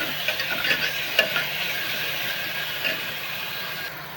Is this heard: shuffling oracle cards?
no